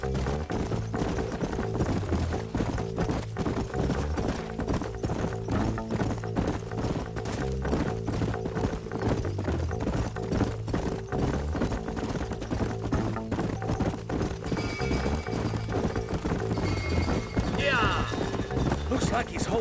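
Steady clip-clop of horses' hooves at a ride in Red Dead Redemption, layered under music and ambient game sounds, with a brief whinny near the end.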